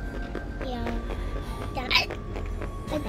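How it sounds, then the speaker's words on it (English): Short hiccups break out amid children talking during a Five Nights at Freddy's game session, with one sharp hiccup standing out near the middle. "You got the hiccups?"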